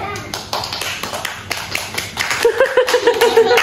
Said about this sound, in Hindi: अच्छा जरा तालियां बजाना